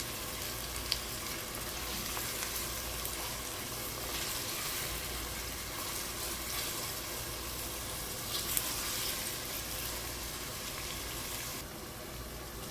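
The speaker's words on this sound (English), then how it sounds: "Stir fry the onions." Sliced onions, five large ones, sizzle steadily in hot oil for an Indian mutton biryani, a faint continuous crackling hiss with no talking.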